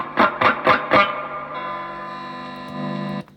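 Four quick distorted electric guitar strums through the overdrive channel of a Marshall TSL100 JCM2000 amp lead into a sustained, buzzing overdriven chord that rings out and cuts off abruptly.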